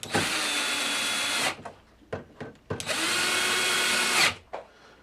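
A power drill drives big screws to bolt on the back plate of a Kwikset door lock. Two long whirring runs are separated by short trigger blips, loud and close, with nobody talking.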